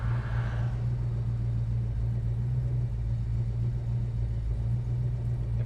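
A 1964 Plymouth Sport Fury with a 426 Wedge engine idling close by, a steady, deep, even rumble that holds throughout with no voices.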